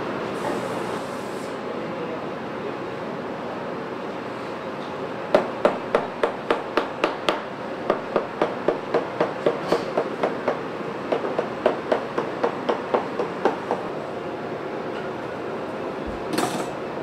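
A boot-making machine hammers onto a metal latch plate in a boot workshop, a loud series of rapid, evenly spaced sharp strikes in several bursts over steady machine and shop noise.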